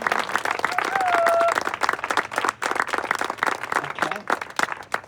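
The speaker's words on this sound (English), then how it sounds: "let's just, again, give a big round of applause" Audience applause after an interview panel with two guest speakers: dense, steady clapping from a crowd filling the whole stretch, loud and continuous with a brief whistle-like tone early on.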